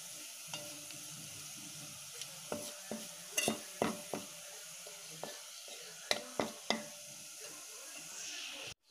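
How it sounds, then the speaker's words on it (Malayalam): Onions and chillies fry and sizzle softly in a pan while a spoon stirs them, giving a string of sharp scraping clicks over a steady hiss. "നല്ല ഒരു ഗോൾഡൻ ഷെയ്ഡ് ആകുന്നിടം വരെ നമുക്കിത് ഇളക്കിക്കൊണ്ടേ ഇരിക്കാം."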